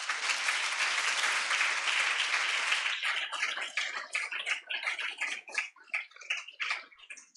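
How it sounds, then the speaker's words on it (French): Audience applause for a UNESCO-representing patron at a university address, dense and steady at first, then thinning into scattered individual claps that fade out. "Donc, beaucoup d'applaudissements pour elle."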